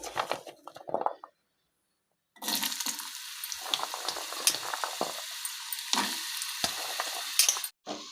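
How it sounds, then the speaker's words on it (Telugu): Ginger pieces frying in oil in a pan give a bright, steady sizzle that cuts out briefly early on, then resumes with crackles and occasional clatter, close and moderately loud. "ఇప్పుడు ఇదే ప్యాన్లో నేను కొద్దిగా ఆయిల్ వేసుకుని అల్లం ముక్కలను కూడా ఒకసారి ఫ్రై చేసుకుంటున్నానండి"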